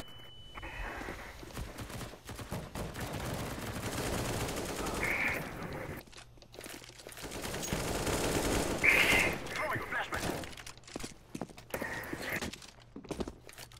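AK rifle fire in a Counter-Strike: Global Offensive match comes as two sustained stretches of fairly faint, rattling automatic gunfire, separated by a short lull and trailed by scattered game noise.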